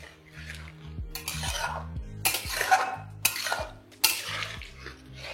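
A spoon stirs lau shukto, a Bengali bottle gourd dish thickened with milk and flour, in a cooking pot: repeated metallic scrapes and clinks against the pot's sides in an uneven rhythm, close and fairly loud.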